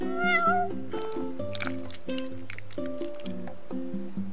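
In the Final Fantasy XV video game, a cat gives a short meow near the start, then steady game background music with soft plinking notes carries on alone.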